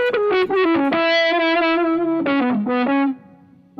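BOSS SY-200 guitar synth pedal on its dark bass preset, with fuzz and reverb on, plays a short phrase of thick, buzzy, distorted bass-synth notes, loud and close, sustaining before a quick cutoff.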